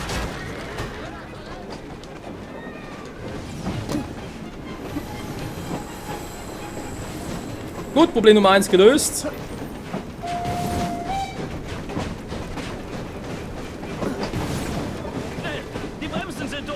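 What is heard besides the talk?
burning train in video game Assassin's Creed Syndicate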